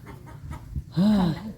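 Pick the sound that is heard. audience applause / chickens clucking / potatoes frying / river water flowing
chickens clucking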